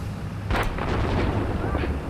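A tank main gun fires in the armored combat simulator Steel Beasts, giving one deep, heavy boom midway. The boom fades into a low rumble, and a voice speaks around the shot.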